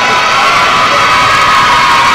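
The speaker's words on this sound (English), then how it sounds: "Crowd's getting loud." A packed crowd at a high-school basketball game roars loudly and continuously, with shrill shouts and whoops blending into a dense, unbroken wall of cheering.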